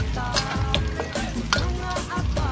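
Vegetables sizzle and sauté in a pan as they brown, with steady frying hiss and repeated stirring scrapes throughout, close and moderately loud.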